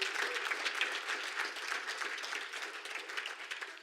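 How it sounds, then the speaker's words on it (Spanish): Church congregation at a Spanish-language service applauds the Lord in a sustained, dense wash of clapping from many hands, steady and moderately distant throughout. "Vamos, dale un aplauso al Señor."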